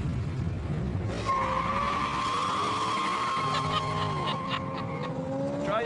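Corvette braking hard, its tires skidding and squealing in a long, loud screech that holds for several seconds at close range, with no voices over it.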